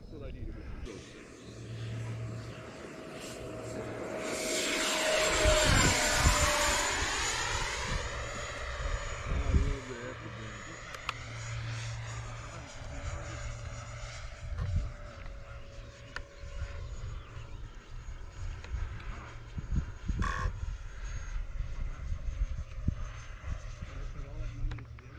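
An FMS Super Hornet RC model jet in Blue Angels livery flying at an RC airfield. Its electric ducted-fan whine swells into a loud close pass and then settles into a steady drone, with distant voices and background noise underneath.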